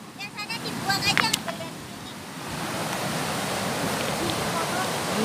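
A river in Taiwan flows with a steady broadband rush that grows fuller and louder midway and holds to the end, with voices and brief clatter near the start.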